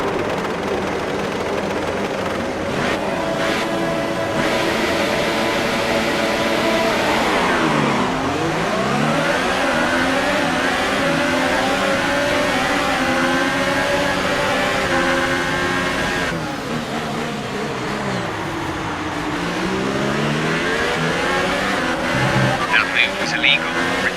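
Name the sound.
F1 race cars starting at Bahrain circuit, from a video game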